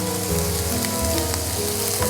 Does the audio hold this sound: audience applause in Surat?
no